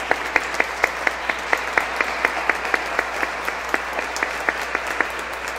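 A church congregation at Sunday Mass applauds the choir, dense room-filling clapping with a regular, rhythmic pulse of accented claps running through it.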